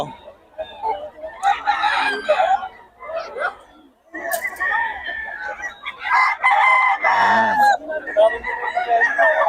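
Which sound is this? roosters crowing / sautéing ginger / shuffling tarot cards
roosters crowing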